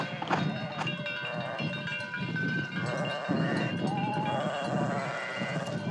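A flock of ewes bleats on a coastal dike in Vendée, several overlapping calls near and far over a steady outdoor murmur, with a brief voice in the background.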